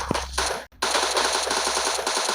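Rapid automatic gunfire from a 7.62 rifle in a video game shooter, a dense steady stream of shots broken by one brief gap, loud and close.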